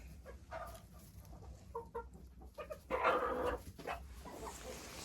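Hens clucking and murmuring in a coop, one starting to lay, a few short calls rising louder midway, with dog barks and farmyard noise around them.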